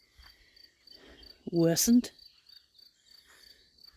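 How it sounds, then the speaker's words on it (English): Faint, high crickets chirp steadily in the background while a person speaks briefly up close. "Just vaguely hear some cricket noise."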